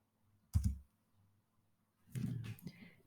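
Keystrokes on a computer keyboard while typing a terminal command: a single short tap, a pause, then a quick burst of several clicks close to the microphone in a quiet room.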